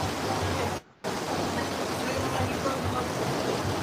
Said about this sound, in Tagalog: Grabe, ang lakas ng ulan, guys.